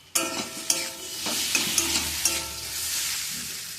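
Fish roe frying in a pan with cumin powder, salt and green chillies, a steady sizzle broken by several sharp scraping strokes of a spatula stirring the mixture, close and fairly loud.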